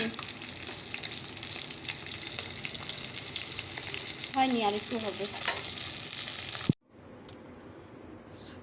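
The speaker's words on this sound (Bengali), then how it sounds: "ফলি মাছটা ভেজে নিয়ে তারপর ছোটো মাছগুলো ভাজবো" Foli fish frying in oil in a wok, a steady loud sizzle with stirring scrapes that cuts off abruptly near the end, leaving quieter kitchen noise; someone speaks briefly over it.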